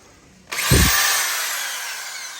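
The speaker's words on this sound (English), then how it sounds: "There's 3 welds up top that you have to drill out." A power drill bites into metal, drilling out spot welds on a Toyota MR2 body, starting abruptly with a loud, steady whir that slowly fades, with no talking.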